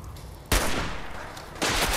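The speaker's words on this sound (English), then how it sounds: "Let's see if I can shoot him in the head from here" Two sharp bursts of gunfire in Fallout 4, each a loud crack followed by a decaying roar, about a second apart with no voices.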